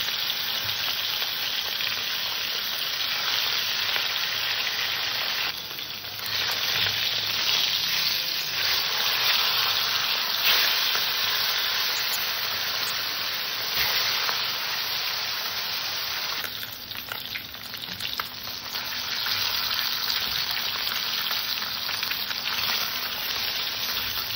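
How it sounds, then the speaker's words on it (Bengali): Fish coated with salt and turmeric fries in hot oil in a wok, a continuous loud crackling sizzle close up, with occasional bursts of spattering and no talking. "এবার মাছটাকে ভেজে নেব"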